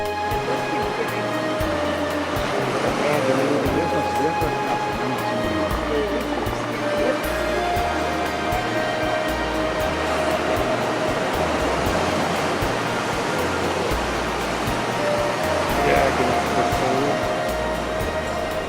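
Pacific Ocean surf at Piedras Blancas beach on the US West Coast, a seal rookery, roars as a continuous, dense wash of breaking waves with no pauses.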